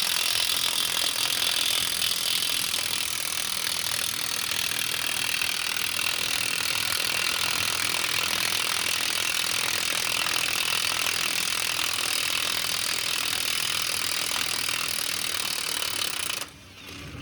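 An impact tool rattles continuously and loudly while loosening the axle bolts and nuts on a square body truck, a dense buzzing hammer that runs without pause for about sixteen seconds before cutting off.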